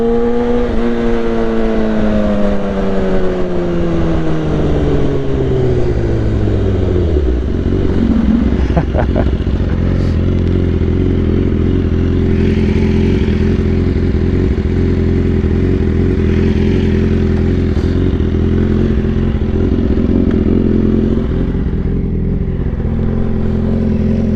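A BMW S1000RR sport motorcycle rides at speed, its engine loud and close with a descending rev sweep as it shifts down, then a sustained steady drone mixed with wind rush throughout.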